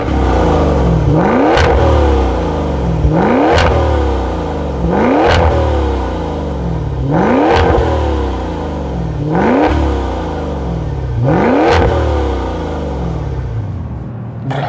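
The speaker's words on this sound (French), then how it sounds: "on va vous faire écouter sur des plans d'insert le bruit de l'échappement" Maserati Levante Trofeo with a Ferrari-built turbo engine revs repeatedly, six rising exhaust bursts in steady rhythm, each climbing then dropping, loud and close with no talk.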